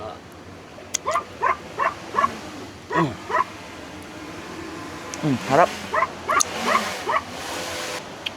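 Jack the dog barks at a rainy beach campsite in Zambales, loosing close, sharp barks in two quick volleys of four or five, while people talk nearby.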